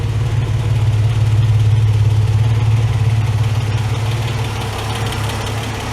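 A Ford Capri MK1 engine, restarted after sitting eight years with the choke pushed fully in, idles with a loud, steady low burble and a slightly tappety, uneven undertone, close by and without talk.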